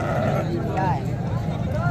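Large sheep bleat at a livestock market, a few wavering cries heard among crowd noise and nearby talking, moderately close.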